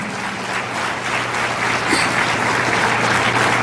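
Congregation applauding for the Lord during a church service, a sustained wash of clapping from many hands in a reverberant hall, steady throughout with a low hum underneath.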